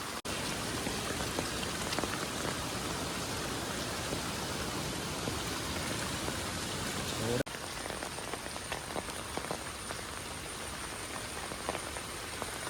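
Heavy monsoon rain pours onto a road in a hilly area while floodwater streams across it, giving a dense, steady hiss of drops and flowing water that drops slightly in level partway through.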